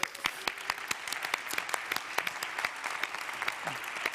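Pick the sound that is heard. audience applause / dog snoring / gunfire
audience applause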